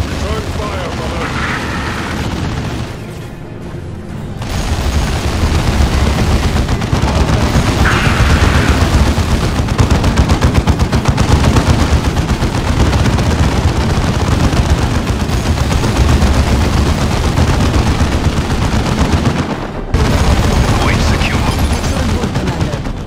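A Warhammer 40,000: Dawn of War 2 battle rages with dense, sustained gunfire and heavy booms for most of the stretch, broken by two short lulls, while game voices speak over the din.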